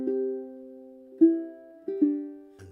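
Ukulele notes plucked softly with the thumb for a warm, sweet tone: a sustained note ringing and fading, then two more gentle plucks, each decaying smoothly, before a brief muted rustle at the end.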